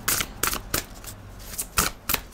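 Oracle cards being shuffled by hand for a tarot-style reading, with repeated crisp riffling bursts in an uneven rhythm, close and fairly loud, with no voices.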